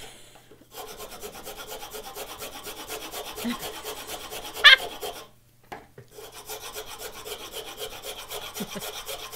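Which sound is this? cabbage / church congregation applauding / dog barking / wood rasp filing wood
wood rasp filing wood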